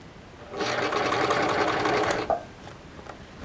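Sewing machine stitching a princess-seamed western show jacket, one fast continuous burst of rapid mechanical whirring and needle chatter for about two seconds, close and loud, then stopping to a quiet room.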